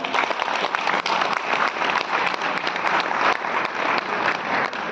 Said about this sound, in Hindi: जोरदार तालियों से इनका स्वागत किया जाए।